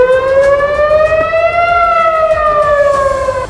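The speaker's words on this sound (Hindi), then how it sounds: "वहां अचानक हमले की चेतावनी के सायरन भी बजने लगे" An air raid warning siren in Israel wails loud and close, one long steady tone that rises slowly, peaks and then falls, with no talking.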